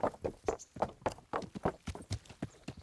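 Several horses clip-clop out through a gate in Kingdom Come: Deliverance, a quick uneven run of hoof strikes on hard ground, fairly close and steady throughout.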